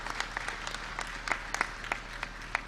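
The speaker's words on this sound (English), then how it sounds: "Give a round of applause." A small gathering at a Ramayana satsang applauds, with scattered individual claps distinctly audible over a light background wash and a steady low hum underneath.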